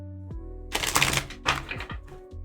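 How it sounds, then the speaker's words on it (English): A deck of tarot cards is shuffled close up, giving short bursts of riffling, flapping card noise and soft thunks over a low steady hum. "let's give these another shuffle"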